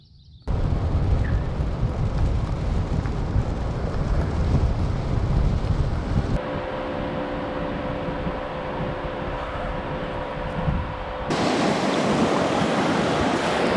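Water rushes steadily at Rattlesnake Creek in the eastern Cascades, a loud broadband roar heard close up, mixed with wind buffeting the microphone and broken by two abrupt cuts in level.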